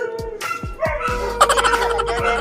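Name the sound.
neighbor's dog barking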